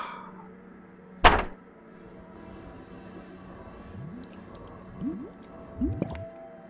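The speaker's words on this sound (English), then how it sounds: "Face down in wet concrete." A body sinks into wet concrete as a radio-drama effect: a single heavy squelching impact, then slow, close, gurgling squishes and sucking sounds at intervals.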